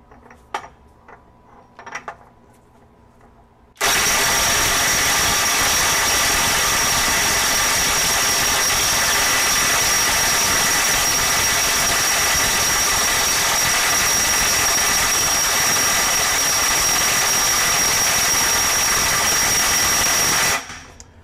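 A Kobalt mid-torque impact wrench on an 8.0 battery set to 1,100 foot-pounds hammers on a stuck fastener in one loud, steady, unbroken burst of about seventeen seconds with a high whine on top, after a few faint knocks.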